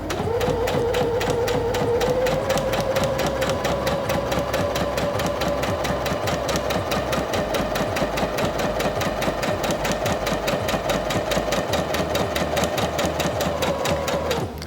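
A Singer Featherweight C240 sewing machine stitches a seam forward with a fast, steady mechanical clatter of rapid needle strokes, close and continuous throughout.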